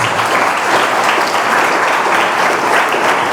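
A church congregation claps loudly and steadily during a worship service, a dense, continuous wall of applause with no break from start to finish.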